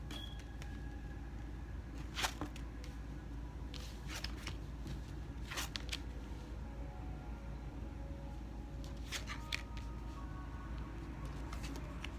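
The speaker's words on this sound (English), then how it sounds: "I'm going to take some time to flip over the cards." Tarot cards flipped over quietly during a reading, giving scattered soft snaps and slides of card stock, several brief flicks spread irregularly over a low steady background hum, close but faint.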